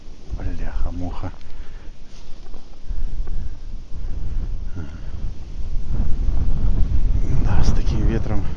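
Strong side wind buffeting a microphone beside the water while out pike fishing in a hurricane-force gale, a loud continuous roar and rumble that swells toward the end, with someone talking over it.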